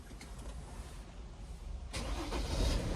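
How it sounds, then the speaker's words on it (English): A Sprinter van's engine cranks and catches partway through, jumping from quiet background into a louder, steady running rumble close by, with doors open. "So now let's start the van."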